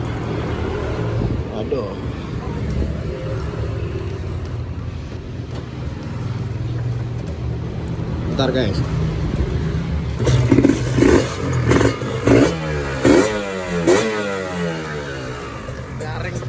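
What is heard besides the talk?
Kawasaki Ninja RR 150 motorcycle engine starting and revving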